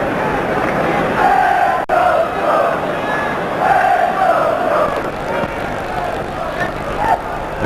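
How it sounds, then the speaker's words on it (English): A large crowd at a 1981 Aston Villa versus Middlesbrough league football match swells in a loud, rolling ooh at a near chance. The roar rises and falls across the stadium while a commentator talks. "the crowd oohing because Shaw was nearly in"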